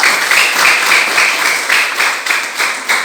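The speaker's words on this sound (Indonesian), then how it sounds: "Kita berikan tepuk tangan untuk kelompok 2" Students in a classroom applaud a presenting group, a loud, steady wash of clapping with a faintly pulsing rhythm throughout.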